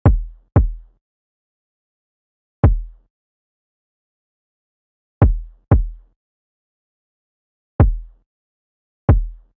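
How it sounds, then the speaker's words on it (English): Soloed boom bap kick drum sample: seven deep, punchy thumps with quick decays, struck alone at irregular intervals with silence between. "We first have the kick, and it sounds like this."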